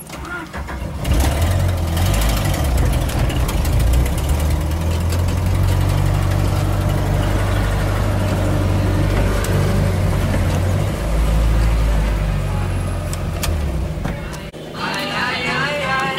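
A vehicle's engine runs steadily in four-wheel drive and low gear, a loud continuous low drone that holds throughout with slight surges, while people talk over it.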